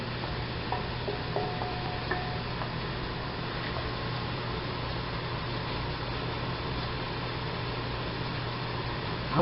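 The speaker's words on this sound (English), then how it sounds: "As you can hear, it's sizzling already." Bacon in a little oil sizzles in a hot pan, a soft, continuous hiss with faint crackles running evenly throughout over a low steady hum.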